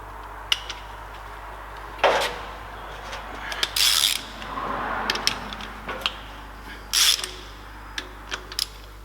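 A ratchet loosens the 10 mm twelve-point connecting rod bolts on a damaged 1.4 TSI engine, giving close, intermittent bursts of clicking and short mechanical rattles with quiet gaps between them.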